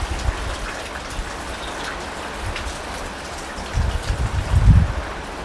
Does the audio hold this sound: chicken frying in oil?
no